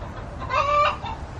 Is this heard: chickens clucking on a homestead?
yes